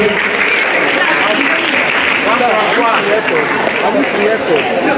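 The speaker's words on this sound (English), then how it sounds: "Please, a round of applause for Professor Agbani." Audience applause at a university inaugural lecture at ESUT, a dense, steady wash of clapping filling the room for the full length, mixed with crowd murmur and no clear pauses.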